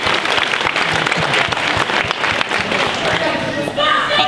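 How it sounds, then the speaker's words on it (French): Loud, dense audience applause filling the room during a talk at the Polymanga 2016 convention, sustained throughout with voices audible under the clapping. "C'est marrant parce qu'ils applaudissent tout le temps."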